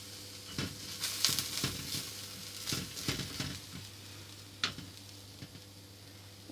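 Onions frying in a pan for a low-fat carbonara, with a soft steady sizzle under scattered clinks and stirring scrapes of a utensil against the pan, close and fairly quiet.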